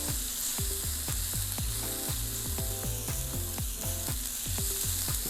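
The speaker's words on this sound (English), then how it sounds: "it's time to melt in some butter in there" Onions sizzle in melted butter in a hot pan for a Philly cheese steak, a loud continuous crackle and hiss broken by steady, rhythmic scraping and tapping as they are stirred and moved around.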